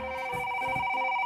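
A telephone rings with a steady electronic tone, a short continuous burst at moderate volume with no talking over it.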